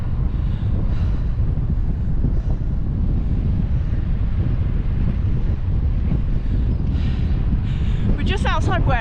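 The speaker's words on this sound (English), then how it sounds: "It is pretty windy." Strong wind buffets the microphone throughout a group bike ride near Wareham, Dorset, a loud, steady low roar with a brief higher rushing at the end and no clear voices.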